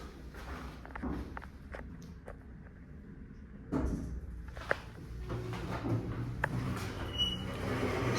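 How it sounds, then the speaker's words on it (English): A 2009 ThyssenKrupp hydraulic elevator door at a Menards store slowly sliding shut, a low rumbling slide with scattered thumps and clicks, and footsteps and store ambience around it. "Super slow door."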